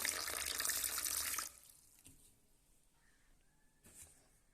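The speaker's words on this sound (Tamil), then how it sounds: "இப்போ இது ஊறுற அளவுக்கு தண்ணி ஊற்றிக்கலாம்" Water pours in a steady, bright stream into a bowl of horse gram for over a second, then stops, leaving faint drips and small clinks in a quiet room.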